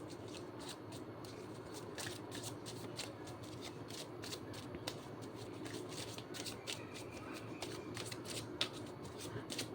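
Tarot cards shuffled by hand, a steady run of soft riffling and papery flicks with repeated crisp snaps, close and fairly quiet throughout with no talking.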